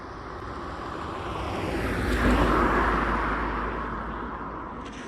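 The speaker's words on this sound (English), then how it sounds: "hang on, we have a car coming." A car approaches along a road where a husky is being walked, its broad engine and tyre roar swelling steadily to a close peak and then fading away.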